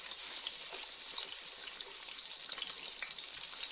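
Onions and sausage sauce fry in a pan with a continuous, bright, crackling sizzle that holds steady, dense and fairly quiet, with tiny pops scattered through and no voices.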